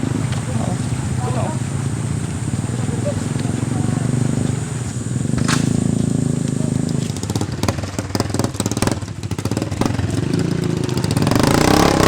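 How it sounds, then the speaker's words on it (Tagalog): Motorcycles stuck on a muddy rural road rev and idle in uneven bursts, loud and close, while people talk over the engine noise and occasional clatter. "Kinakailangan pa nilang itulak ang mga motorsiklo na nabalahaw sa maputik na daan."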